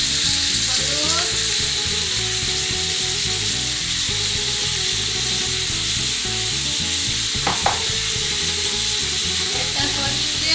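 Chicken and spices such as turmeric frying in a pan for chicken kasha, a steady, close sizzle with occasional stirring clatter, no voices.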